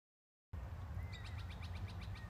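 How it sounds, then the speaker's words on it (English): Birds sing in a young botanic garden on the Gold Coast, a run of repeated bright chirps and short trills standing out clearly over a steady low ambient rumble, with no talking. "Listen to the birds."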